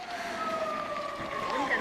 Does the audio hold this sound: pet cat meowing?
no